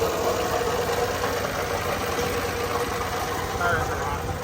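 A 1962 Plymouth Savoy engine idles roughly while misfiring on one cylinder, with a bad water pump bearing, a steady loud uneven rumble running continuously throughout.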